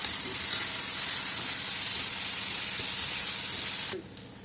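Coriander leaves frying in a pan for a spicy dried bombil thecha give a steady, close broadband sizzle that runs evenly, then drops away sharply just before the end.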